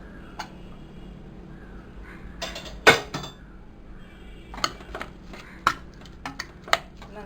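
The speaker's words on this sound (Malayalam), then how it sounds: "ഇപ്പം നമുക്ക് കുക്കർ തുറന്ന് നോക്കാം" A pressure cooker holding cheera koottan is opened after its whistles, giving a sharp metallic clank followed by scattered light clicks and taps of metal lid and utensil, close by in a quiet kitchen.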